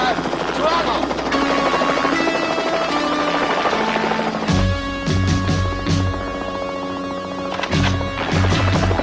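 A helicopter with a hit, failing tail rotor drones loudly and continuously in a dramatic scene, with a sudden heavy burst partway through and voices talking over the noise.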